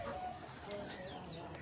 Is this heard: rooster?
yes